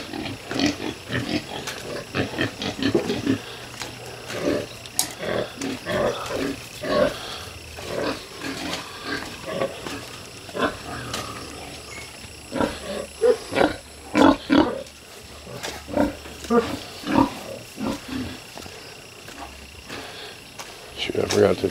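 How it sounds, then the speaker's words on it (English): Little piglets in a barn pen give repeated squeals and grunts in irregular bursts, fairly close and moderately loud, with a voice talking among them. "look at the little piglets."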